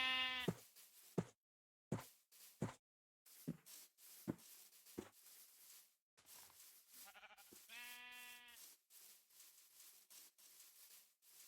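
Sheep in the video game Minecraft bleating in short, separate calls, several clipped bursts followed by one longer wavering bleat, with brief silent gaps between them and no talk.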